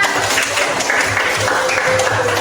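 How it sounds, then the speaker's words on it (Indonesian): A classroom group applauds for everyone during a teacher training session; a continuous wash of clapping holds steady and fairly loud, with a faint rhythmic thump underneath. "Tepuk tangan untuk kalian semua"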